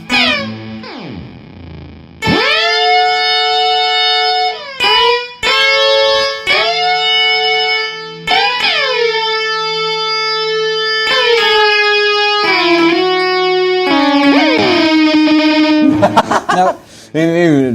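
Electric guitar played through an Electro-Harmonix Canyon delay pedal, loud sustained distorted notes and bends with echoing repeats, separated by brief pauses.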